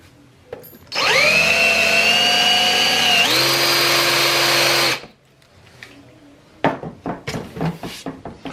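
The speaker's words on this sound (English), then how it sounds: "we're going to go ahead and drill all the way in through this hole" A power drill whines steadily for about four seconds while drilling through PVC, its pitch rising partway through, then stops; a few clacks and handling knocks follow.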